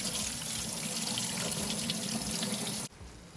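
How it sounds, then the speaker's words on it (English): Cold tap water runs into a sink while canned red kidney beans and chickpeas are rinsed, a steady close hiss and splash that cuts off abruptly near the end. "And I'm just going to rinse it in cold water."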